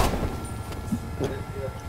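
Gunfire in an online shooter match, a few muffled shots and thuds scattered through a steady game-sound bed, moderately loud with speech-like chatter mixed in.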